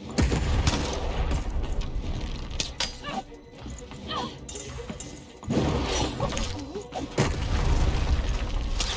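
Cannon fire in a video game lands as heavy booms and crashing impacts, with quieter gaps in between, and a voice can be heard under the action.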